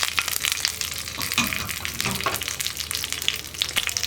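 Sweet pachadi being stirred into a Kerala-style curry in a pan, with a steady wet scraping and stirring texture and soft sizzling throughout, fairly close and even, with no voices.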